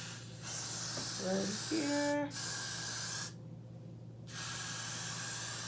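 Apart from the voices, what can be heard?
spraying Ultra Glued styling gel onto a wig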